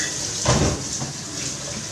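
Water runs from a tap into a pot in a home kitchen, a continuous close hiss and splash with a brief louder gush near the start.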